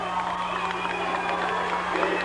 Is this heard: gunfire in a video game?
no